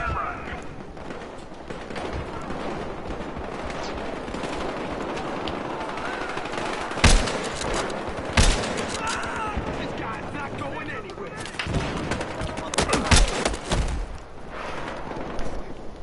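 Sniper and shotgun fire in a video game: sharp, loud gunshots crack out singly around the middle and in a tight cluster near the end, over a steady background of game noise and ambience.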